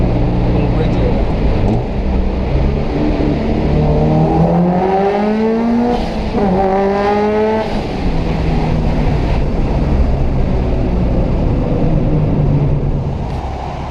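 A Subaru Impreza S203 replica's turbocharged engine revving hard, pitch sweeping upward in rapid repeated climbs through the gears, loud and close from inside the car, with a voice speaking over it.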